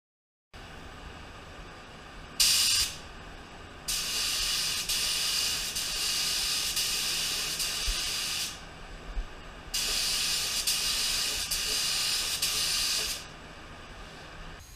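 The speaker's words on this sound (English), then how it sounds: "Let me just start applying the sealer." A spray gun hisses loudly while applying sealer to a lowrider car, in several long steady bursts separated by short pauses, close and dominant with no talking.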